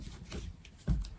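Starseed oracle cards being shuffled by hand, soft brief riffling flutters close up with no talking.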